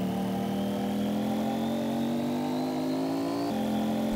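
A car engine revving in the Fortnite video game, a smooth, steady engine tone that climbs slowly in pitch, then drops briefly and carries on, loud and continuous with no talk.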